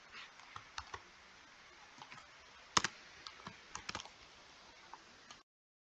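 Computer keyboard typing with backspace presses, irregular close clicking keystrokes in small bursts with one louder clack, quiet overall and ending abruptly in silence.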